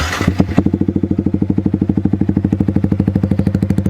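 A motorcycle fitted with a Proliner TR1 exhaust, the dB killer removed, starts with a sharp burst. It then settles into a loud, close idle with an even, rapid thumping pulse and no talk.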